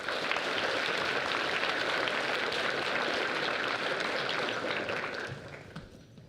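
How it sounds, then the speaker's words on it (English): Sustained audience applause fills a high school underclassman awards ceremony, a dense steady wash of many hands clapping at a distance before tapering off near the end. "If you'll give them a round of applause."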